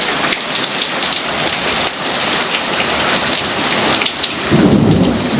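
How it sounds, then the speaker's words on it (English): Heavy rain pours steadily throughout a thunderstorm, with loud rumbling thunder swelling near the end; no one speaks. "That thunder is something else."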